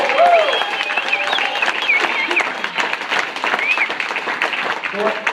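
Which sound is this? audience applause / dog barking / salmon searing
audience applause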